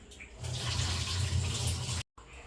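Water is poured or drained off in a steady, splashing rush of about a second and a half that cuts off abruptly, then trickles on quietly.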